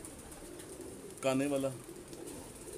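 Pigeon cooing among champion racing pigeons in a loft, one clear throaty coo phrase rising over steady background hiss, with someone speaking nearby.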